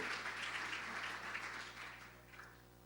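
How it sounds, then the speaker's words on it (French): A conference audience applauds a departing speaker at a closing business-school event, a quiet, distant spread of clapping that tapers off over a few seconds. "On peut l'applaudir."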